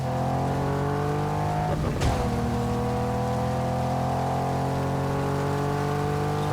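A steady engine drone with tonal whine runs throughout, with a brief swooshing pass in the middle, as a car drives continuously in the video game Just Cause 3.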